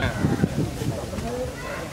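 A rooster crows at an illegal cockfighting ring in front of a temple in Kalasin, Thailand. The short, strained call rises over nearby voices and crowd noise.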